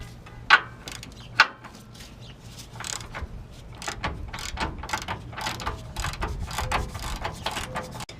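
A ratchet with a socket works on an upper control arm bolt of a 2004 GMC Savana 2500 van, giving rapid, close clicking pawl bursts that build into a steady run of ratcheting.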